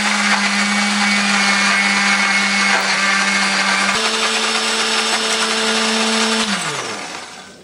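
A kitchen blender grinds shallots, garlic, ginger, coriander and turmeric with a little water into spice paste, a loud steady motor whine that shifts pitch partway through, then winds down at the end.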